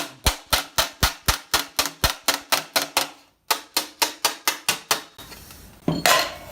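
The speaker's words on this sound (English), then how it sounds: "So to chisel it, again, I usually do it over soft wood." Rhythmic metallic hammer strikes on a chisel working a steel armor greave laid over soft wood, about twenty sharp evenly spaced blows with a brief pause, then a scraping sound at the end.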